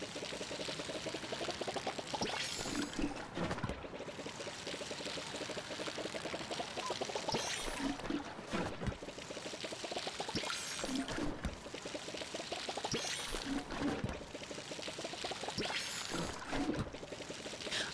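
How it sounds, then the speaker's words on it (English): Water poured from a container onto a potted plant, a long, steady trickling pour at a quiet level that swells and eases in repeating waves, with no voices. "Wait, didn't I just water this?"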